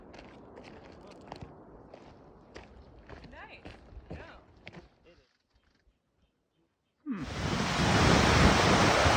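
A cascading mountain stream beside the Pacific Crest Trail in Washington: footsteps crunch along the path, a short hush follows, then loud, close rushing water suddenly fills everything.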